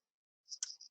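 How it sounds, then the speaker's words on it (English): Computer mouse double-clicking while working in AutoCAD: two quick, faint, crisp clicks close together with a softer tick trailing after, heard alone in a quiet room. "I'm just double clicking here"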